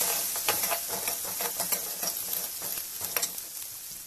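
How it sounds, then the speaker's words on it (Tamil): Sliced onions frying on a low flame with curry leaves and red chillies while being stirred for ragi puttu, a steady close sizzle with scraping spoon strokes throughout, no voices. "அப்புறம் வெங்காயம் ஆட் பண்ணிவிட்டு வெங்காயம் வந்து கொஞ்சம் நல்லா ஃப்ரை ஆகிற வரைக்கும் நீங்கள் லோ ஃப்ளேமில் வச்சு ஃப்ரை பண்ணுங்க."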